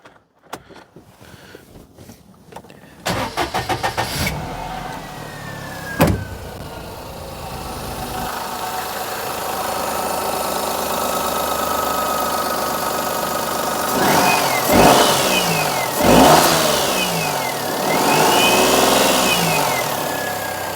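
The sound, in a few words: Perodua Kenari engine starting, idling and revving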